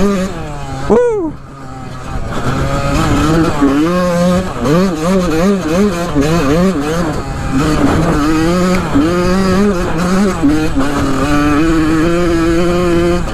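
Yamaha YZ125 two-stroke dirt bike revving hard while ridden, the engine pitch rising and falling in quick repeated swells throughout, loud and close, with a short burst before it settles into steady aggressive throttle.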